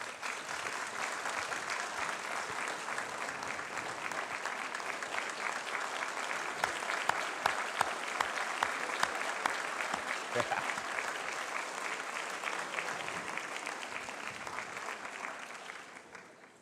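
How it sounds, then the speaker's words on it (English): A large audience at a 2016 conferring ceremony for the Applied Social Science and Food & Tourism departments gives graduates' families sustained applause, a dense even roar of clapping with a few sharp claps standing out before it fades. "give those families the well-deserved round of applause that they truly have earned"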